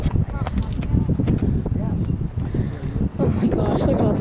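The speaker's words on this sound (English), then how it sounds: "It's so windy up here." Wind buffets the microphone in a steady low roar on a high mountain lookout in the Smoky Mountains, with breathy talking heard underneath throughout.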